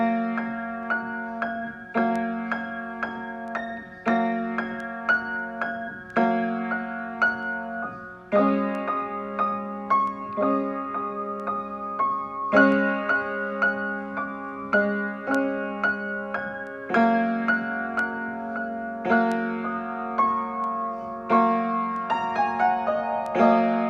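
Solo piano improvisation with sustained left-hand chords and right-hand melodies on the black keys only, chords changing every couple of seconds under a flowing pentatonic line, close and clear with no talking.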